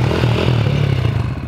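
A stunt motorcycle still on its stock sprocket idles and putters along at very low speed, a steady low engine drone with light clattering that continues throughout, close and fairly loud.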